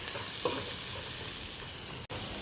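Moringa flowers frying in a pan are stirred, giving a steady close hiss and sizzle with a few soft scrapes and no talking.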